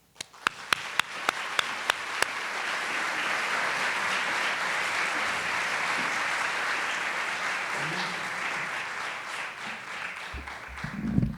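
An audience breaks into warm applause to welcome keynote speakers at an early intervention summer institute, a few sharp near claps leading into sustained crowd clapping that fades as a voice begins at the end.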